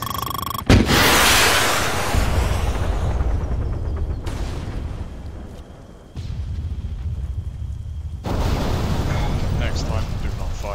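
A video game missile launch and explosion: a sharp firing crack, then a sustained, loud, rumbling roar with abrupt cuts and renewed blasts, no talk.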